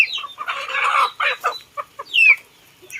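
Farmyard chickens cluck close by as they drink, a busy run of clucks and short squawks in uneven bursts, with a higher squeal partway through.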